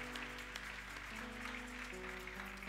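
Church congregation applauding together in steady, continuous clapping, with sustained organ or keyboard chords held beneath the applause throughout.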